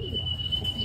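Pigeons cooing close by in a short burst of low, throaty murmuring with a steady background hum.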